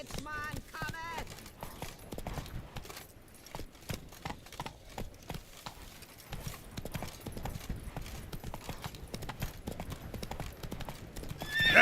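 A horse in The Witcher 3: Blood and Wine gallops with rapid, continuous clip-clopping hooves. A whinny sounds early on, and game sounds blend in throughout.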